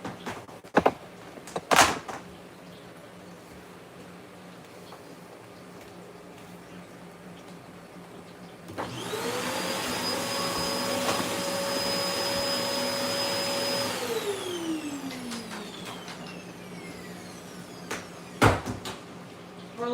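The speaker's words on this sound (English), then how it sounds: "I'm about to fire up the vacuum." A household vacuum cleaner starts up with a sudden whine, roars steadily for several seconds, then winds down, with a few sharp knocks and clatters before and after in a quiet room.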